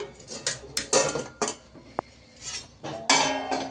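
A pan of fasting upma (upvas upma) is uncovered, with a series of close metallic clinks and clatters from the lid and utensils at irregular intervals, no talking.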